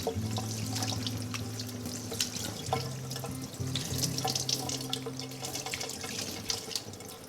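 Water runs steadily from a tap, a continuous splashing stream into a sink with small drips and clinks, fairly close and uninterrupted throughout, while a whole chicken is being cut and cleaned.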